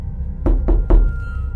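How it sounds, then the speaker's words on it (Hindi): Three firm knocks on a house door as a sound effect, evenly spaced and close, each a sharp hollow thud with a short decay, over a faint low hum with no voices. "किसी ने मेरे घर का दरवाज़ा खटखटाया।"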